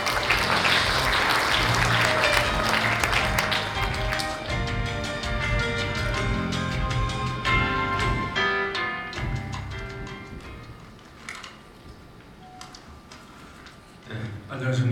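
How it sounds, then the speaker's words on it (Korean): Audience applause fills a hall at the 3rd International Drone Sports & Entertainment Conference in Yeongwol, a loud, dense clatter at first that gradually thins and fades, with some talk mixed in. "따뜻한 박수로 맞아 주시기 바랍니다."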